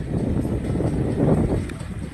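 Wind gusting through trees, talisay trees among them, outdoors, a steady broadband rush that swells briefly near the middle and stays fairly loud throughout, with no voices.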